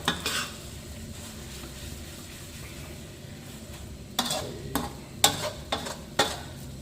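Korat rice noodles are stir-fried in a pan over a soft continuous sizzle, and a spatula scrapes and clanks against the metal in several sharp, close knocks toward the end.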